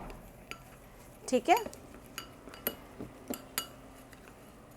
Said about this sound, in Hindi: इनको मैं मिक्स कर लेती हूँ आपस में